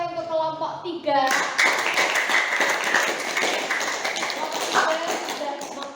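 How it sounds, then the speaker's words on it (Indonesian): Students clap for a presenting group in a poultry-health class, a dense burst of hand claps starting after about a second and continuing steadily to the end, preceded by a brief voice. "beri tepuk tangannya untuk kelompok 3."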